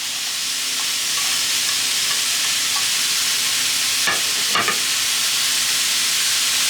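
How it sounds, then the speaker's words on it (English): Bean sprouts and chives sautéing in a hot pan for noodleless tanmen, a steady loud sizzle with faint stirring scrapes and no talk. "bean sprouts and saute lightly."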